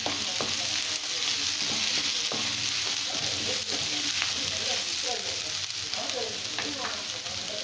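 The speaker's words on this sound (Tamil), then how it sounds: "இப்போ கொடமிளகாயும் போட்டு 2 நிமிஷம் வதக்கியிருக்கேன்." Onions and capsicum sautéing in a pan for chilli bread, a loud continuous sizzle with repeated scraping stirs, close up and without speech.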